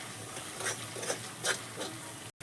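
Masala frying in oil in a pan for a potato and pea curry, sizzling steadily while a spoon stirs it in a few distinct scraping strokes, close by with no talking.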